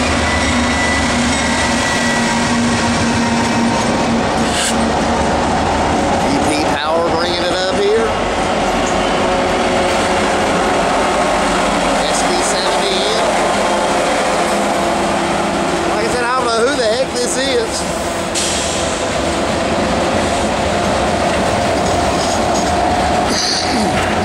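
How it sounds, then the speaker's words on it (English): Norfolk Southern manifest freight train passing northbound on the Charlotte District, with steady loud rolling rumble, clanking cars and brief wheel squeals throughout, while people talk intermittently nearby. "Got a manifest coming northbound."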